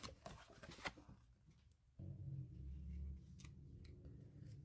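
Scissors snip through paper as a picture is cut out for a collage in an altered book, giving quiet close crisp cuts, first in a cluster of snips and then a softer sustained rasp.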